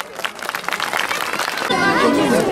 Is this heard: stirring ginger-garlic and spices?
no